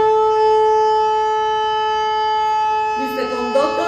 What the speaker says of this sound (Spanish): Alguien que tenga shofar y me haga el sonido de tequía.